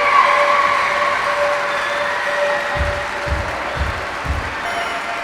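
Crowd applause in the London 2012 Olympic video game on PC, a steady wash of clapping and cheering at moderate volume with a few soft low thumps near the end, no talk.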